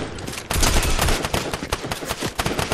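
Rapid gunfire in Fortnite, a sniper rifle battle with dense overlapping loud shots and crackling impacts in quick irregular succession, close and busy, without talking.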